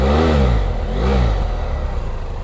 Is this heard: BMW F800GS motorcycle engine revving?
yes